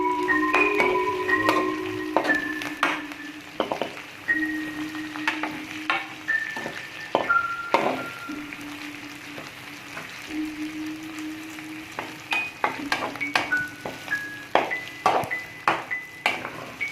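Garlic frying in a pan gives a steady close sizzle, with repeated stirring scrapes and ringing clinks of a utensil against the pan throughout.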